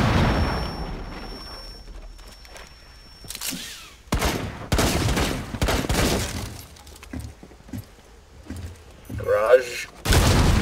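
Gunfire with breaking and shattering in the tactical shooter Rainbow Six Siege, shots ringing through a garage door in a house, sharp irregular bursts and impacts amid voices talking over the action.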